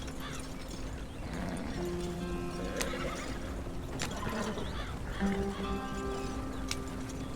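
A horse gallops in Red Dead Redemption 2 as the rider whips it for speed, rapid hoofbeats drumming under a busy game soundscape with faint tonal music-like lines, steady and moderately loud, with no talking.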